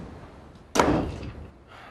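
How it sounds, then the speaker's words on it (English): A door swings shut with a single sharp thud, close and fairly loud, in an indoor domestic scene from a British TV soap, followed by a short fading rumble and quiet room tone. "Close the door on your way out."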